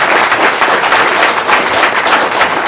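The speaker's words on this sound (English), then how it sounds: "Need to hold your applause." Audience applause fills a room at a public meeting, a steady burst of clapping heard close and loud throughout, with no talk over it.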